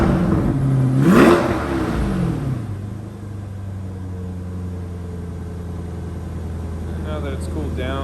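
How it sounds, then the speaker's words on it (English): A Corvette C8 with its stock exhaust revs once sharply, the engine note rising and falling quickly, then settles into a steady low idle rumble; nearby voices are heard briefly over the engine. "Go ahead and rev it up."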